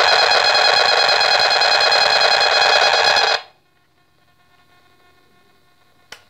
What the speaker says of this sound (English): You'll hear a huge amount of noise, that's the radiation